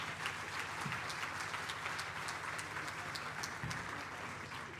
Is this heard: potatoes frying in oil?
no